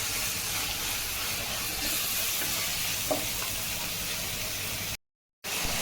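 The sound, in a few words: sautéing masala in pan for crab thokku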